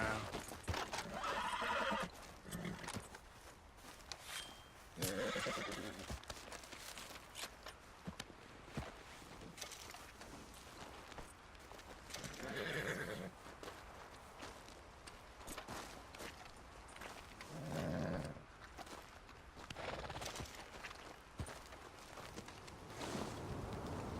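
A horse whinnies and snorts amid clip-clopping hooves and rustling movement in Red Dead Redemption 2, fairly close, with a noisy background throughout.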